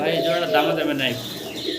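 A Pakistani Rampuri pigeon coos in short, soft, throaty notes close by, with a voice nearby.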